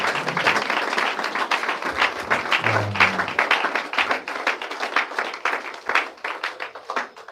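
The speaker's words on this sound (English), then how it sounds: "please help me put their hands together and give a powerful clap" Conference audience gives sustained applause, many hands clapping densely and steadily at close range, with a faint low voice briefly underneath around the middle.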